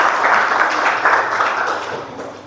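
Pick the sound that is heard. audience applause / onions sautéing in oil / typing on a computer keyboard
audience applause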